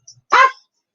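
One sharp, close dog bark breaks the quiet, loud and brief, with a faint little sound just before it and silence afterward.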